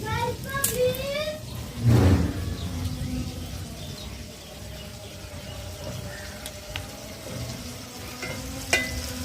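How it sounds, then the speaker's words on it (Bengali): Rohu fish sizzles steadily in hot oil with a soft crackle, while a clatter and brief voices sound in the background. "মাছ ভাজা হয়ে গেছে, তুলে নেব।"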